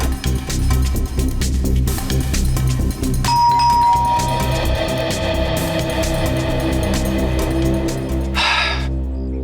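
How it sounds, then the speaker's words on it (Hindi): A doorbell chimes once, a clear ringing tone that lingers briefly over a loud, steady background rumble. "आप एक बार और घंटी बजाने का कष्ट करेंगे?"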